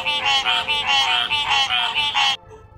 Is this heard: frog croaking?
yes